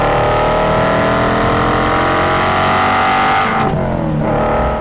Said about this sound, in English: This car just screams.